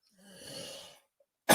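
A man gives a single hoarse cough from a lingering nagging cough, followed after a brief pause by a sharp loud burst of noise.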